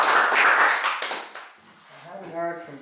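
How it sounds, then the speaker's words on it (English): Meeting audience clapping, a short burst of applause that fades within about a second and a half, followed by a person speaking. "All right, we'll clap for Nancy Brown"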